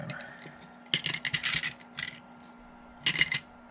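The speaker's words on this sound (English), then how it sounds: "shuffle up and go one more time." A deck of trading game cards shuffled at a table: two quick papery riffle bursts, the first about a second long and the second shorter, close and fairly loud against a quiet room.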